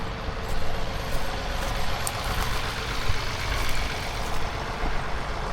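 A tractor engine runs steadily with a deep, continuous rumble and slight variations in load, heard close up with no talking.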